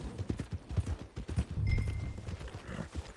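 Horse hooves clip-clop steadily in the video game Red Dead Redemption 2, a run of quick, fairly close footfalls with a brief sustained tone partway through.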